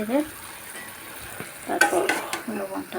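A spatula stirs and scrapes dry-cooked rui fish with potato and beans in a pan, with brisk clattering strokes over a light sizzle and no talking.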